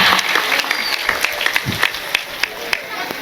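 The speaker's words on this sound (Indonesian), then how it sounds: "tepuk tangan riyen kagem Pak Lurah" Audience applause at a Javanese religious study gathering, a dense steady patter of claps with a few louder individual claps standing out near the end, loud and close.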